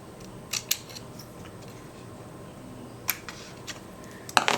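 Scissors cut a thin piece of paper for covering the back of a small box, a few crisp close snips spaced apart with a louder cluster at the end, otherwise quiet.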